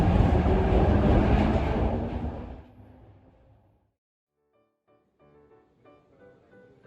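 A Glasgow Subway train on 4-foot gauge track in narrow 11-foot tunnels rumbles loudly past, then fades away over a few seconds. After a brief lull come faint clicking and rattling sounds.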